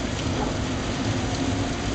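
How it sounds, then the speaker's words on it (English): Steady rain falls on an off-grid homestead as a dense, even hiss of drops that continues without a break. "it's raining like a nice steady rain"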